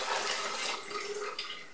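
Water is poured to top off a brass pin separator used for cleaning reloading brass, a soft, steady splashing trickle heard close up for a moment with no talk.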